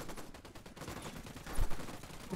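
Gunfire rattles in Ghost Recon Wildlands in quick repeated bursts, a dense crackle of shots with one heavier thump near the end, at moderate volume within a busy firefight mix.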